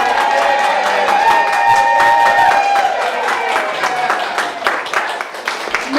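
An audience at a campaign event for a Marin County supervisor candidate claps and cheers, a dense, lively burst of applause with voices mixed in that gradually thins toward the end.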